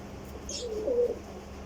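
A Sialkoti pigeon gives a single soft, close coo, brief and low, over quiet background hum.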